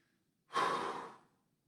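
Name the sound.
breathing during a stretching exercise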